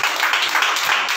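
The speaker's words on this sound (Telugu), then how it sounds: "కొట్టండి చప్పట్లు గట్టిగా." Congregation clapping hard through an all-night church prayer meeting, a dense continuous wash of many hands with no break, loud and close throughout the short burst.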